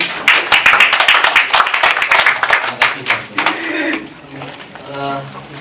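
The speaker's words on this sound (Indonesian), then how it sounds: "tepuk tangan buat Tuhan" A church congregation at a retreat claps along in quick rhythmic bursts, loud and close, then thins out as music and voices continue underneath.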